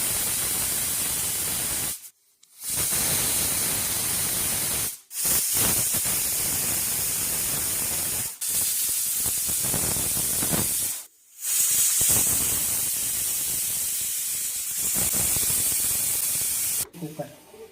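A pressure cooker on the stove, cooking dal with turmeric and oil, releases a loud sustained hiss of steam in long bursts broken by brief pauses.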